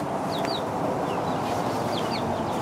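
Chickens cluck inside a backyard coop, with brief chirpy calls rising over a dense, continuous wash of background noise.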